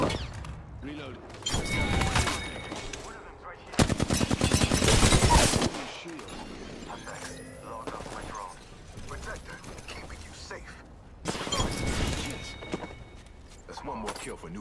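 Bursts of automatic gunfire and mechanical weapon handling sounds from the video game Apex Legends come in several short volleys, with a voice speaking between them.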